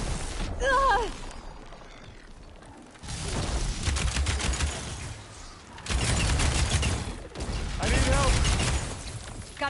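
Rapid bursts of weapon fire in Horizon Forbidden West combat, loud repeated volleys arriving in waves with mechanical clatter, mixed with in-game voices.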